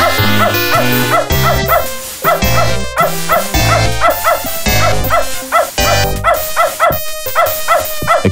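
A dog in the video game Beneath a Steel Sky barks loudly in a rapid series of sharp woofs and yips, repeated in bursts throughout.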